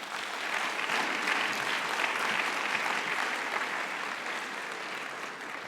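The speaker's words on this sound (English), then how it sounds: "can I get a round of applause for my student leaders?" Sustained audience applause from a school crowd at a simulated national political convention, steady and dense throughout with no voices over it.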